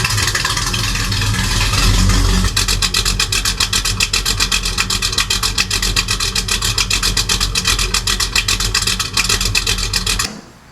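A '65 Buick Skylark GS with a 455 engine, no choke, running up close: a loud, rough rumble that settles into a steady, rapidly pulsing idle before cutting off abruptly near the end.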